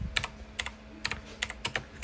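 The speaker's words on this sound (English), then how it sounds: "let me type" Typing on a computer keyboard nearby, with short bursts of crisp key clicks in an uneven rhythm, several quick clusters against a quiet room hum.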